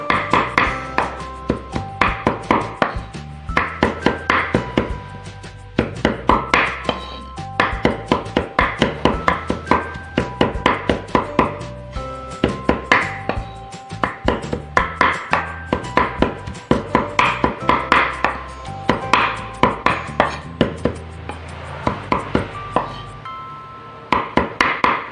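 Ingredients for sambal petai chopped by hand with a knife on a board, a steady rapid series of close, sharp chopping thuds continuing with brief pauses.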